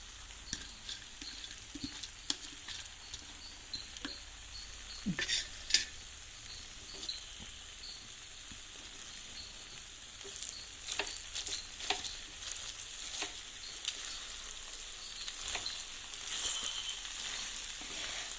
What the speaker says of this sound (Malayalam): ഫുള്ള് നമുക്ക് ഇളക്കിയെടുക്കാവേ.